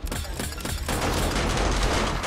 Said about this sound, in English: Those turrets are tearing them up.